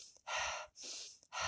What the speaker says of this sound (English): We did a lot of really quick, rapid breathing, breath of fire style breathing, which is in Kundalini